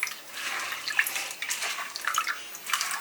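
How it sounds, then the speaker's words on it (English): Water is poured into a pot of Sri Lankan fish ambulthiyal curry, a continuous splashing, bubbling stream heard close up and fairly loud for the whole few seconds. "To add water, and you kind of dilute it."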